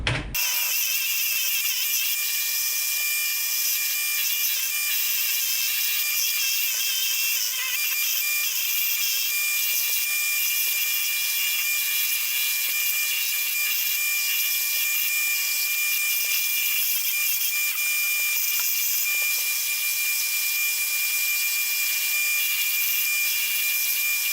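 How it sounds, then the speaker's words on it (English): Belt sander shaping a wooden axe handle, a steady high-pitched whine and grinding hum running continuously and close for the whole stretch with no talk. "now I can use my sander too, which I totally forgot about, my belt sander"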